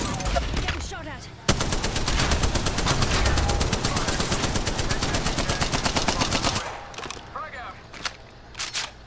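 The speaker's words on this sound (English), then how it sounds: "Getting shot at." Automatic weapons fire in the video game Apex Legends, a dense rapid burst of shots lasting about five seconds between scattered single shots, loud and close under game sound effects.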